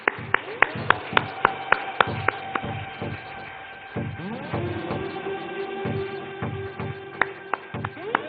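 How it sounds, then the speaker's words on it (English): Applause from an audience at the CII Telangana State annual meeting award ceremony: sharp claps ring out in the opening seconds, then fade into a steady crowd hum with scattered claps returning near the end. "Big round of applause."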